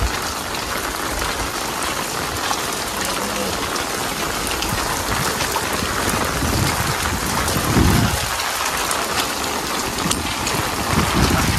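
A heavy downpour falls on farmland during field work, a loud, dense roar of rain on surfaces close by, with a brief low rumble midway and no talking.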